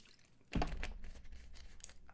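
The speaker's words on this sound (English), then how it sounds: "that was my fist and the water bottle both hitting the desk at the same time" A fist and a water bottle strike a desk together in one close, solid thud, followed by a brief scatter of faint rustling and knocking.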